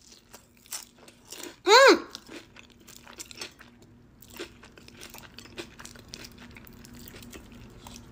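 Crab rangoons being bitten and chewed, one loud crisp crunch followed by softer scattered chewing crackles, close up, with a brief murmur of voice.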